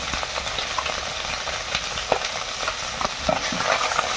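Small puti and mourala fish fry in oil for a fish curry in a Bengali village kitchen, hissing in a continuous dense crackle with scattered light pops and stirring knocks, close by and without speech.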